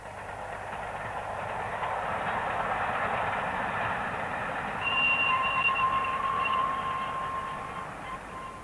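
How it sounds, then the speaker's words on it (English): Bluebell Railway's LNER Blue Peter, a powerful express passenger steam locomotive, running with a steady rolling rumble of wagons and wheels, and a thin squealing tone rising midway, sustained and moderately close with no voices. "Blue Peter is a powerful express passenger locomotive built after the LNER had been absorbed into British Railways following nationalisation in 1948"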